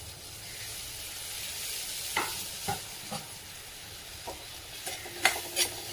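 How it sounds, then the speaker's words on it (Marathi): Onion and tomato being sautéed in a pan for a green bean curry made with gram flour. A soft, steady sizzle runs throughout, broken by a few sharp spoon scrapes and clinks that grow more frequent near the end. "कांदा आणि टोमॅटो चांगलं परतून घेऊया."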